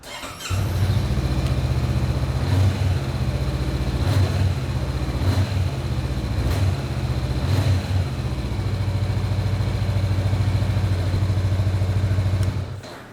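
A 2019 Honda CB500X motorcycle engine idles steadily with a low, even rumble, close by, broken by a few brief throttle blips before it cuts off at the end.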